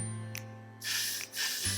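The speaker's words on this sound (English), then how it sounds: "You can take some hairspray." Hairspray sprayed onto an Elsa wig being styled, two fairly loud, close hissing bursts of aerosol spray following a quiet stretch.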